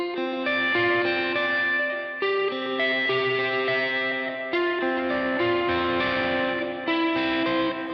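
Electric guitar with a capo playing the opening line of a worship song in C, a repeating melodic phrase of picked notes through chorus, reverb and echo effects, clear and up close with no talk.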